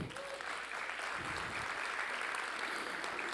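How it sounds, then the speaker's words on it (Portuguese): An audience at a book launch in Brazil gives a dense, continuous round of applause, many hands clapping together at moderate distance and low overall level, with no talk over it. "palmas para elas."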